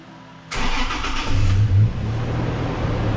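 A 2007 Toyota FJ Cruiser, converted from automatic to manual, cranks and catches about half a second in, then settles into a loud, close, steady idle with a brief rev partway through.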